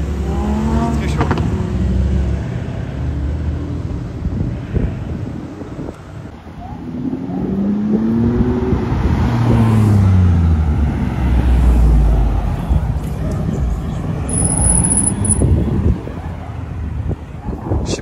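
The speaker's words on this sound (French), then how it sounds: "Je sais pas si vous entendez mais la SVJ elle fait des revs" A Lamborghini Aventador SVJ with a Gintani exhaust at the Gumball 3000 revs repeatedly, its engine pitch sweeping up and down over wind and road noise, loud and close, with people talking over parts of it.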